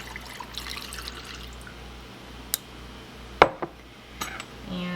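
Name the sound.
pouring cold brew coffee into a drink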